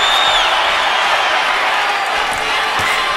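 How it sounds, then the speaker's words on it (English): A large boxing arena crowd roars and cheers steadily as a boxer lands hard punches early in a round, a loud sustained wash of voices with scattered whoops. "Crowd gets excited here at the beginning of round number 6 as Crawford comes out and lands a couple of hard shots"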